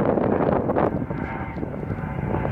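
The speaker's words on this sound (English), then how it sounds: "There's a helicopter." A helicopter's broad engine roar and rotor noise fill the air nearby at Lake Mead, Nevada, steady and loud, mixed with wind buffeting the microphone.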